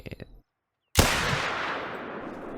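A single loud, close hunting-rifle shot with hollow-point ammunition in theHunter: Call of the Wild, ringing out in a long, fading tail after brief talk and a moment of silence.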